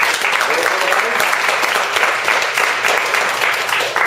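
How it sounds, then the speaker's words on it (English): A café crowd claps in a loud, continuous round of applause, many hands together close by, steady throughout with a few whoops mixed in. "Round of applause for Keith."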